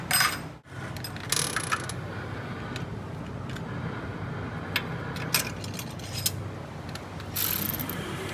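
Car parts taken off an engine during an intake and fuel rail job are tossed into a metal tray, giving repeated clanks and metallic rattles over steady workshop noise, without talking.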